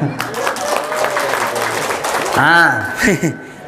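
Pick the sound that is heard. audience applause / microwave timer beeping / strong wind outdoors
audience applause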